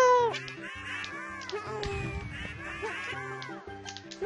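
Cartoonish bird cries from the Yoshi's Story video game, repeated warbling squawks over a busy music track, continuous and moderately loud.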